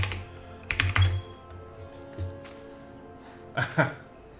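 Quick bursts of typing on a computer keyboard while entering a chat emote command in Final Fantasy XIV, clicky keystrokes in short clusters close up over faint game background sound, no talk.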